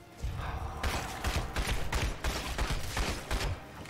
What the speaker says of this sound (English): Again, semi-auto weapons.